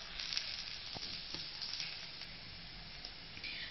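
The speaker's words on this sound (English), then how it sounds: "Add cumin seeds, jeera, add finely chopped onion. Now you can see it gets golden brown in color." Cumin seeds and finely chopped onion fry in hot oil, a continuous close crackling sizzle with faint stirring, alone with no talk.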